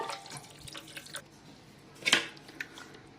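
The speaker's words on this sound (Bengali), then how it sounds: "এই যে মাংসের ঝোলটা কুকারে ছিল, এই চা ছাঁকনি করে ছেঁকে দিচ্ছি।" Meat broth from a pressure cooker being poured through a tea strainer while making biryani, giving soft liquid dripping and trickling with a brief louder splash partway through, fairly faint overall.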